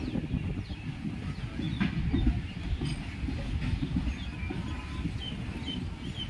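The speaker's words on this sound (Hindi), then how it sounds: "ये मालगाड़ी आ गई, इसमें इनका खाना पीना जा रहा है।" A freight train carrying military supplies rolls by at moderate distance, a steady low rumble with rhythmic wheel clatter and faint squeals, birds chirping faintly.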